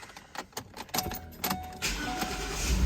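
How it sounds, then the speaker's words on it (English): Keys jangle and clink close by as they go into the ignition of a Lincoln Navigator with a shifting fault, then the engine cranks and catches into a steady rumble. "We're going to start it up, going to get the key in, get it cranked up"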